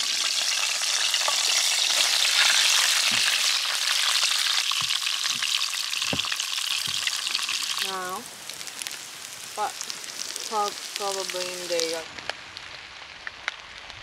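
Onions frying on a grill outdoors, a steady loud sizzle and crackle for about eight seconds, then quieter spitting while a person talks over it.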